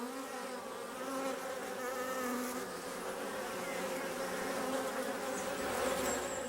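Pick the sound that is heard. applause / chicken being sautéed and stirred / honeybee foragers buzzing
honeybee foragers buzzing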